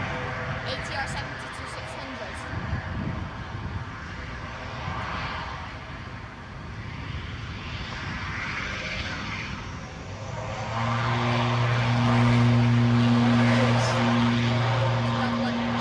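An Aer Lingus ATR 72-600 turboprop departs for Dublin at Edinburgh airport, its broad engine and propeller roar building steadily, with a strong low droning tone swelling in the last few seconds over constant background rumble.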